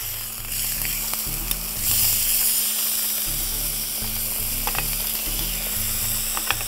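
Chicken pieces fry in a pan of hot oil, a constant close-up sizzle with crackling spatters and occasional scraping as the pieces are moved, with a low steady hum underneath.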